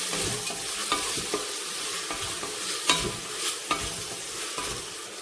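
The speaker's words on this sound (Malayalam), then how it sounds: "നന്നായി ഇളക്കി കൊടുക്കാം" Beef curry being stirred in a pot for a pressure cooker beef curry, with a steady sizzle and irregular scraping strokes of the spoon, close and moderately loud, no talking.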